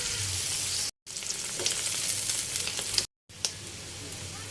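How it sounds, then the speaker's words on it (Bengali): Bitter gourd and fish fry in hot oil in a pan, a continuous close sizzle with occasional crackles, cut by two short moments of silence. "সিদ্ধ হওয়া পর্যন্ত ভেজে নিব।"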